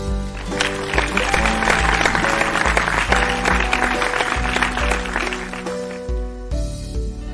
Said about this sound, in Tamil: உங்கள் கைத்தட்டலுக்கு நன்றி